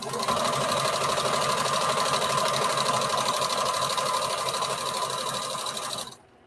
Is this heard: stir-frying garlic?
no